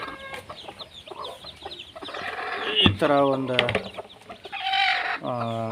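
A broody hen clucks repeatedly and close by, a few louder squawking calls among them, while a person talks briefly in between.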